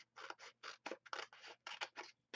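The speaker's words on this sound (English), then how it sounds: "Get my scissors." Scissors snip in a quick series of about ten cuts with short gaps between them, close and crisp, nothing else sounding.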